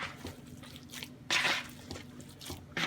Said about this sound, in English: gonna get all of that mixed together well